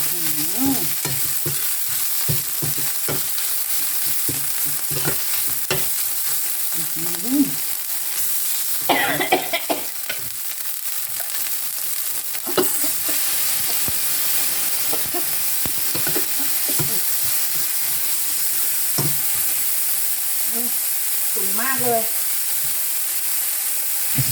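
Spicy meatballs stir-fried with fragrant chili curry paste in a pan give a steady sizzle, with repeated scraping stirs and utensil knocks throughout, close and fairly loud, with a few brief coughs in between.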